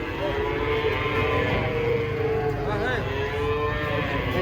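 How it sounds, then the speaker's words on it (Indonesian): Large cattle are being unloaded from a truck, with a drawn-out loud moo against a constant low rumble of noise and commotion. "Aduh, besar sekali sapinya guys."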